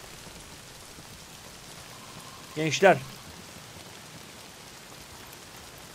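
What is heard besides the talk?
rain falling in video game Days Gone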